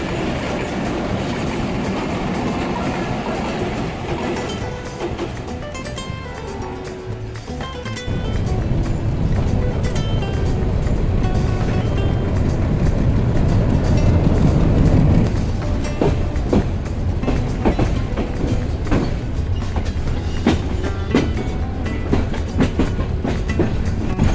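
The Ishwardi-bound Dhaka Commuter train rumbles past a station with rhythmic clickety-clack and occasional wheel squeals, growing louder partway through and staying close and continuous.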